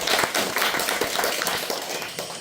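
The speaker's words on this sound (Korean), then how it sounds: "큰 박수 또 한번 부탁합니다" Lecture hall audience giving applause for a visiting professor and poet, a moderate, fairly faint patter of many hands clapping steadily, with no speech over it.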